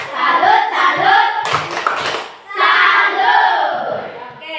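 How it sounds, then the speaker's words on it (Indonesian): Classroom students clap in a rhythmic patterned group clap for a presenting group, chanting along loudly in unison between bursts of quick, close hand claps. "Tepuk tangan dulu buat kelompok 1"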